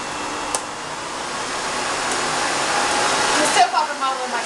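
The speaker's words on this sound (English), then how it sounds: "Maximum power right now. You can hear the difference with the low suction setting." A Miele S4 Neptune vacuum cleaner runs at maximum suction power, giving a steady, loud broadband whir that holds for several seconds, then shifts and wavers near the end as a voice speaks over it.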